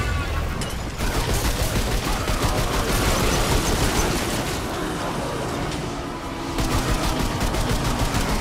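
A light machine gun fires in the video game Remnant 2 as loud, dense, sustained bursts. The rapid shots blur into an almost unbroken roar.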